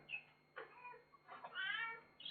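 A cat meows indoors in a few thin, faint cries with short pauses between them, heard alone against quiet background hum.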